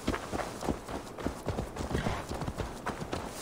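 Horse hooves in the video game Assassin's Creed Valhalla clip-clop in a steady, quick rhythm on hard ground, close and continuous, with a faint hum of background noise.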